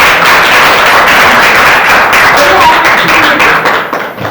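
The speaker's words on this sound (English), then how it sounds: "So please give them a round of applause." An audience at a school debate presentation claps for the team about to present, a steady, close, busy patter of hands that thins toward the end.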